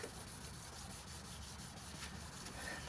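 Sandpaper rubbing over the plastic lens of an old, dull, yellowed car headlamp during restoration, a soft, steady scratchy hiss that stays faint and continuous throughout.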